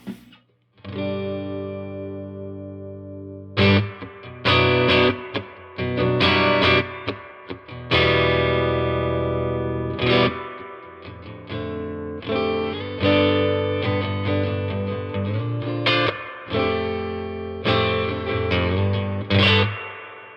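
Strummed electric guitar chords through a small Vox AC4 hand-wired amp, with a wet, splashy spring reverb tail ringing between strums; no voices.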